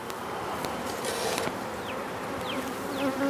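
A swarm of honey bees on a hive lid makes a dense, continuous buzzing hum, close and steady, with individual bees flying past the microphone.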